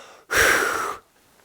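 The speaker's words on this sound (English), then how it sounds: "Breathe downward." A person breathes out downward in one forceful breath of almost a second, close to the microphone, with quiet before and after.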